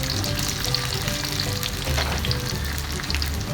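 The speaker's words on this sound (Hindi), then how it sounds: "ये देखें, हमारी भिंडी जो मसाले की भरी थी ना, वो फ्राई हो गई है।" Stuffed okra (bharwa bhindi) packed with spice masala fries in hot oil, giving a steady, dense sizzle with bubbling crackle that stays loud and close throughout, with no voices over it.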